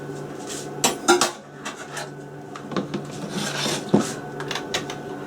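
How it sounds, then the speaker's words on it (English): Egg white is whisked with a spoon in a pan, producing a steady scraping rasp with sharp metallic clinks and taps against the pan, close by and with no voices. "Take that spoon out of there and use it for the egg white, and you have to whisk it."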